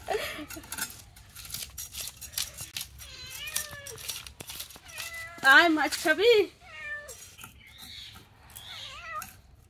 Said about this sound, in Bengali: বিড়াল এসে ম্যাও ম্যাও করছে।